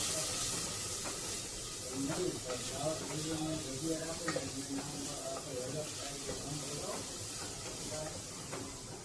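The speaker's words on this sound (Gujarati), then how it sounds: "ડુંગળીને પણ સાતળી લેવાની છે" Onions sauté in a pan for masala khichdi, a steady close sizzle with soft stirring scrapes, while a person talks over the frying.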